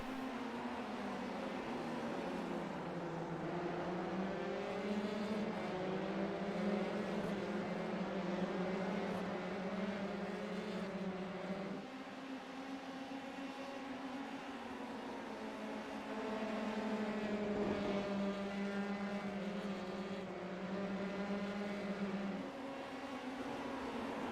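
Formula 3 cars in a league race in a racing video game keep up a steady, high engine whine, pitch rising and dipping through gear changes and corners, with several cars close together.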